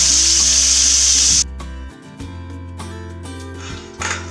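Loud sizzling of meat browning in hot oil in a wok, frying in batches for a cauliflower stir-fry, starting as a bright hiss that drops abruptly to a quieter crackle with low clatter and rumble underneath.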